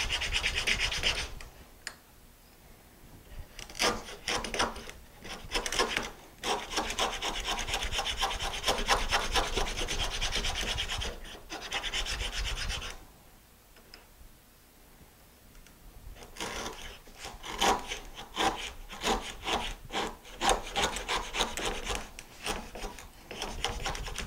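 Lie-Nielsen router plane cutting wooden tenons down to a depth stop, giving repeated rasping, scraping strokes in bursts with a short quieter pause partway, close and fairly steady, with no talking.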